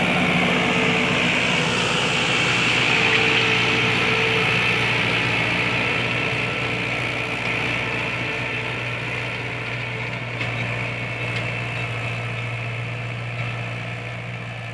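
A second-hand 2017 Mahindra 575 DI tractor hooked to a nine-tine cultivator runs steadily nearby, a constant mid-pitched engine drone with no voices over it.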